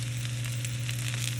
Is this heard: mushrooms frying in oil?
yes